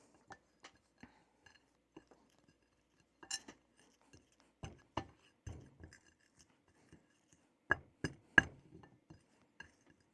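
A glass container is handled while candles are coated with powder, giving a series of sparse, faint clinks and taps with quiet pauses between them.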